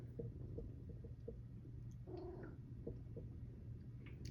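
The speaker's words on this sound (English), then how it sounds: "that is Beepo, my black cat. He does make little squeaky toy noises" A black cat makes little squeaky, toy-like chirps and a short warbling call, faint and close against a quiet low hum.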